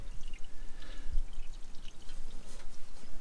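Engine oil dripping from a 2019 Subaru WRX STI during a service, a faint, steady patter of liquid falling, close by.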